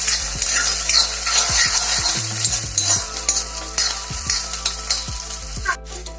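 Onion, garlic and ginger fry and sizzle loudly in a pan, close by, with repeated scraping stirs and light clinks of a spatula against the metal.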